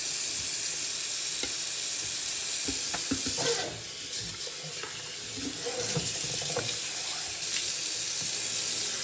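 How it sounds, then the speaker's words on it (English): Hot water runs steadily from a tap over car wheels being washed, a constant hiss of flowing, splashing water with occasional knocks and scrubbing sounds. "I'm washing these with hot water."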